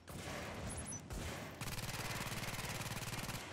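An automated turret in Tom Clancy's The Division fires a rapid, evenly pulsed burst of gunfire up close, following earlier sharp shots and clatter.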